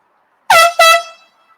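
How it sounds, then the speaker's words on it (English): Two quick, loud blasts of a vehicle horn passing a roadside sports bar, the second following right after the first and trailing off, set against near silence. "Got to respond to those beeps"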